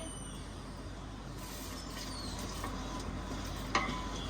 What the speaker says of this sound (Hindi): इसको हिलाते रहेंगे ताकि ये चीनी अच्छे से मेल्ट हो जाए